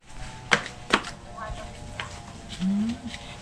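A knife chops vegetables on a board while preparing pork trotter soup, with two crisp close chops followed by lighter cuts, and a voice speaks briefly toward the end.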